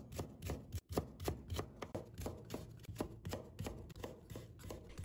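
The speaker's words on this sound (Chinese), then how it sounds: "再把它切成丝，" A knife chops steadily on a cutting board, shredding carrot slices in quick, even, repeated taps, close but fairly quiet, with no talk.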